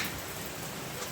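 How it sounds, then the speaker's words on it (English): Heavy rain pours down in a dense, even hiss, steady and unbroken across the short stretch with no voices. "It's raining seriously and I can't move in this rain."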